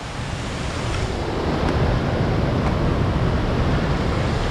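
Ellenborough Falls in flood sends out a broad, steady roar of rushing water, unbroken and moderately loud, with wind-like hiss blending into the constant wash.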